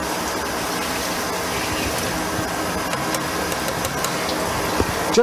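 Liquid runs steadily out of a distillery still during a stripping run, a continuous close gushing and trickling wash over a low mechanical hum with no talking.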